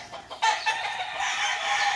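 Rooster calling at close range, a short series of harsh clucking and crowing notes over about two seconds, with no talk.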